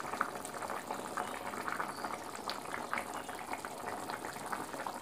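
A pot of potato and pointed gourd curry simmers on the stove, giving a steady, close bubbling and popping texture with no break.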